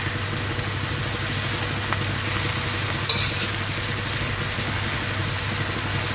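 Kadai paneer simmering in a pan after curd is added, a steady close sizzle with faint stirring, continuous and without talk.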